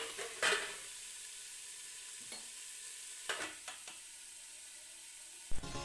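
Pointed gourd and potato fry in a pan with a steady soft sizzle, punctuated by a few scraping stirs of a utensil against the pan, quiet and close with no voices.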